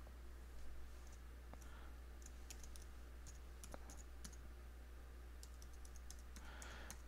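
A computer keyboard is used to type a password: a scattered run of light, quick key clicks, fairly faint, over a steady low electrical hum.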